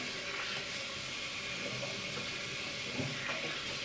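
Steady hot water running from a bathroom tap, a continuous broadband rush that holds an even level throughout with no voices.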